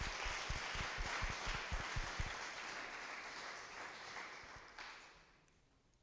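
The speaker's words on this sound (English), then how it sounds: "I think we all should give a round of applause for" Applause from an audience at an artisan graduation ceremony, dense clapping that holds steady and then gradually thins and fades toward the end.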